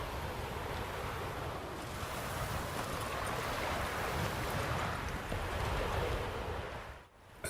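A flowing stream in The Witcher 3 rushes steadily in the open, a broad continuous wash of water with some wind, no voices, dropping away briefly at the end.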